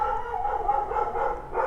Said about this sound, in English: As a dog barks in the background